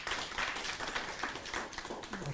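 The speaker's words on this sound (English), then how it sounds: "Let's welcome her with an applause" An audience at a university conference marking a ten-year anniversary claps to welcome a speaker, a dense, steady wash of applause that holds at an even level from start to finish.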